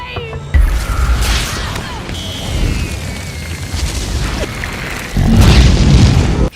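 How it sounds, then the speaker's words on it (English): A loud boom erupts in the film Guardians of the Galaxy as an explosion engulfs an archive, followed by rumbling debris and crashing, then a second powerful blast near the end. "Triggering an explosion that engulfs Tevan's archive."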